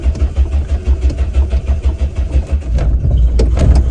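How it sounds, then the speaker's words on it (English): An old Renault 5 engine runs on choke with a steady pulsing idle, revving high and even, close by and loud throughout. "right now it's revving quite high, and that is because I have the choke on"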